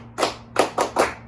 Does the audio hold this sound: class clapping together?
yes